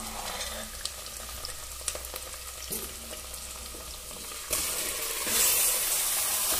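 Pieces of mutton tipped into a pan of fried golden onions, with a steady sizzle and the scrape of stirring, growing louder and brighter toward the end as the meat hits the hot oil.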